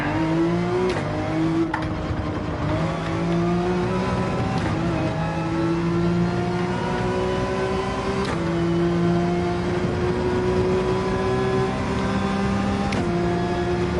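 Porsche 911 engine in Gran Turismo 7 climbing through the revs in long rising sweeps, each cut short by a sharp gear change before pulling up again, loud and continuous with no voices.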